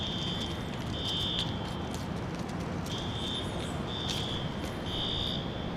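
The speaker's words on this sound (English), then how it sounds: "I still hear that alarm." At rainy Dallas Love Field airport, a high electronic alarm tone sounds in repeated short bursts from a distance over a steady wash of rain and background noise.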